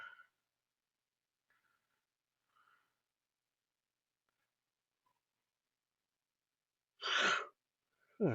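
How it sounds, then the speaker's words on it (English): A single sharp sneeze bursts out near the end of an otherwise quiet stretch, followed by a brief breathy sound; faint rustles appear earlier. "Sorry, I was trying not to sneeze there."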